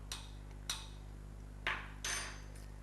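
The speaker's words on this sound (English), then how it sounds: "Give it a stir." A spoon stirs tea inside a cafetière, making four quiet, separate clinks and scrapes spaced across a couple of seconds, with no talking.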